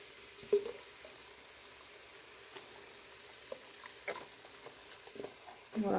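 A whole 500 g carton of sauce goes into a hot pan of bolognese aromatics, bringing soft sizzling and stirring that swell into a louder frying hiss at the end.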